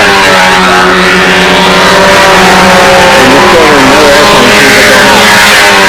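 A model airplane engine at a control-line flying contest on grass circles, running steadily at a loud, continuous high-pitched drone with slight pitch wavering throughout.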